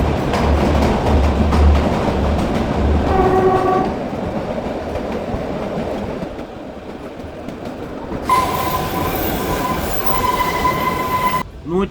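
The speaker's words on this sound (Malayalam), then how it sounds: "ട്രെയിൻ പതുക്കെ മുകളിലേക്ക് കയറി കയറി ഏതാണ്ട് 1800 അടി ഉയരത്തിലേക്ക് കയറിപ്പോവുകയാണ്" The Kalka-Shimla heritage toy train, dating from 1903, climbing slowly toward Shimla, with steady wheel rumble, rail squeals and horn-like tones, and a loud burst of squealing near the end.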